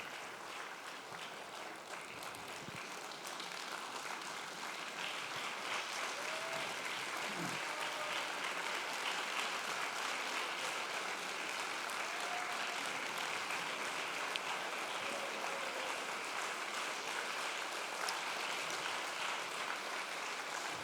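Applause from a concert audience fills the whole stretch, a dense, steady clapping that swells slightly after the first few seconds and holds even, with no voices over it.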